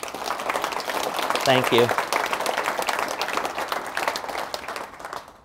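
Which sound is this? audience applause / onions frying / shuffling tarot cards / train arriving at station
audience applause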